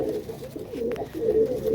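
Domestic pigeons kept at home coo in low, rolling murmurs close by, a steady throaty burble with brief swells that runs through the whole stretch without any talk.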